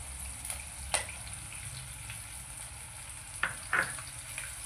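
Ginger-garlic paste stirred into softened onions frying in a pan: a steady low sizzle runs throughout, with a few brief scraping clicks of the spoon near the start and a couple more toward the end, no voices.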